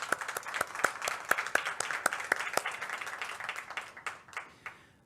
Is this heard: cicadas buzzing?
no